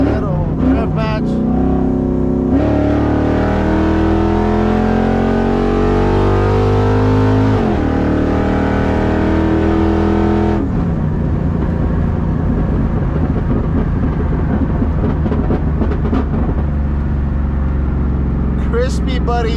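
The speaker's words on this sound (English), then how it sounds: "Let's see if we can do a little pull on 3rd gear." A car engine revs hard through a third-gear pull with the tune on, its pitch climbing steadily and then dropping abruptly before settling back to a lower rumble, loud and continuous throughout.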